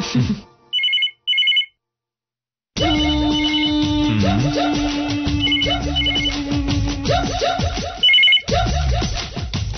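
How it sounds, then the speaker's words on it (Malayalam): A telephone rings in short repeated bursts, then a busy, loud mix of electronic tones and clattering noise continues over it. "രാജേന്ദ്രൻ സാറിന്റെ ഫോൺ ഞാൻ എടുത്താൽ പ്രശ്നമാവും."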